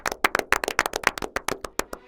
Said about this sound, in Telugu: క్లాప్స్ కొడుతున్నాను